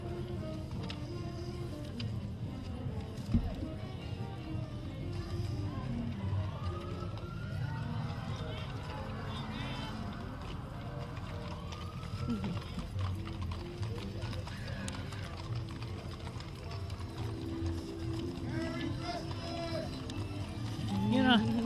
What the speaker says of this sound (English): A lot of pretty horses.